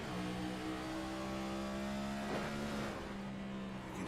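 In iRacing at Phoenix Raceway, a damaged race car's engine drones loudly with a steady pitched hum, then a brief sweeping hop partway through as the car fights for control.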